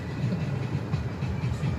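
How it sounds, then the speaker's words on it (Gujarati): A freight train rolls past nearby, a low, throbbing rumble with faint rhythmic wheel clatter over a short stretch. "આ તો હે ને બેટા માલગાડી છે માલગાડી"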